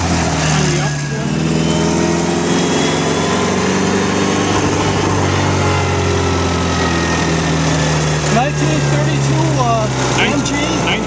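A 1932 MG vintage car engine runs steadily at a museum transportation event, a continuous loud hum with gear changes as it drives on, while people talk over it.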